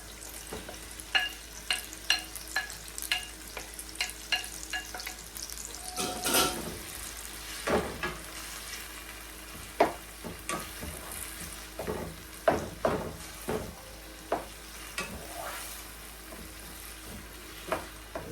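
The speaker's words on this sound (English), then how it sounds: "Let the saltfish fry for like 2 minutes" Saltfish sizzling in a frying pan for a Jamaican ackee and saltfish dish: a steady crackle under repeated scraping and stirring strokes, with a brief burst of running water partway through.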